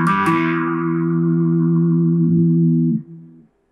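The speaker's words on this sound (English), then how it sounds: "now we come into the octave effect, which is same as the bass liner" A single sustained guitar note with a thick doubled low tone from a Vox Mini Go 50 amp's octave effect, ringing steadily for about three seconds before cutting off and fading.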